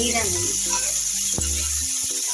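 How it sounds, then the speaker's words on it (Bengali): Whole spices, a five-spice tempering, sizzle and fry in hot oil in a home kitchen, a steady close crackling hiss that carries on under a voice. "ফোড়নটা দিয়ে দিলাম। এটা একটু ভেজে নিব।"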